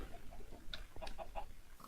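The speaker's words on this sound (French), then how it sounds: "Il y a plein de poules ici." Chickens in a video game cluck in a short series of soft clucks, faint and low in level over a constant hiss of background noise.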